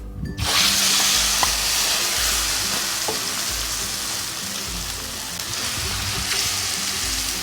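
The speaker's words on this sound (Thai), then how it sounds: "เราจะตอกไข่ใส่กับชะอม เราจะลงทอดกันเลยค่ะ" Steady, loud sizzling of egg with acacia (cha-om) leaves frying in hot oil, a continuous crackle that starts abruptly and fills the whole stretch without talk.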